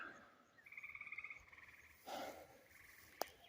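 Frogs croak at twilight in a forest meadow, a steady pulsing chorus of moderate loudness that swells and fades over a few seconds against quiet outdoor ambience, with a brief sharp click near the end.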